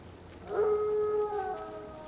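A single long, wavering howl rises out of a quiet background, holding a steady tone for about a second before trailing off.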